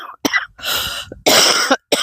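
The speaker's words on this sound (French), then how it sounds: "Pardon, mais je tousse toujours." A woman who is ill coughs several times in quick succession, close and loud, each harsh burst separated by brief silences.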